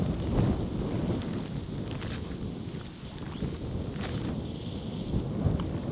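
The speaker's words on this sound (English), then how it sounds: "there's a big wind now" Strong outdoor wind roars and buffets the microphone continuously with low rumbling gusts at a fly-fishing spot, with no talking.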